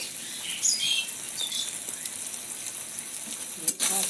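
Spices sizzle steadily in a hot pan while being sautéed for soybean kofta curry, a continuous hiss with soft crackles and a brief clatter near the end.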